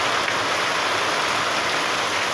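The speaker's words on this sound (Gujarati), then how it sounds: "આપણે વરસાદ વરસી રહ્યો છે" Heavy rain falls in a dense, loud, continuous roar of drops, even and unbroken from start to finish with no voices.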